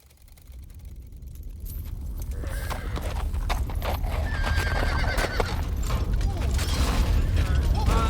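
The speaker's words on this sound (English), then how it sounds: "Go with the horses, Strohein." Horses clatter past with rapid hoofbeats that swell in loudness, while whinnies and creaking, rattling gear sound over the rumble.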